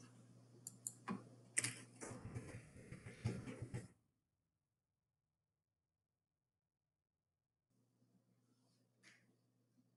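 Quick clicking keystrokes of a computer keyboard for about four seconds, close by, then near silence with faint soft taps at the end.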